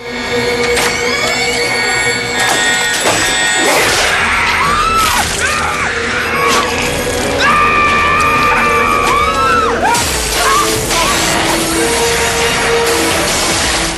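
A horror film soundtrack plays screams, wails and shrieks layered over harsh mechanical crashes and droning noise, loud and chaotic throughout.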